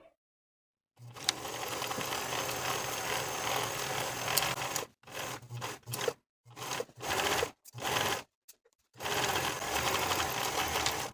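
Sewing machine stitching the side seam of a dress lining, a fast steady mechanical whir in one long run, then several short stop-start bursts with pauses between.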